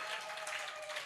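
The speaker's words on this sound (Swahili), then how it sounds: "Kama unapigia Yesu makofi, piga kelele mpaka watu wajue uko hapa." A church congregation at a Sunday service claps for Jesus in a dense, steady roar of many hands, loud and sustained with cheering woven through it.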